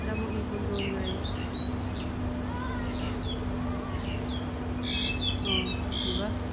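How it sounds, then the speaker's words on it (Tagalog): Many birds chirping and tweeting together in Kowloon Walled City Park, Hong Kong, a busy chorus of short high calls over a steady hum and background noise. "Ay may daming ibon doon. Daming ibon doon guys."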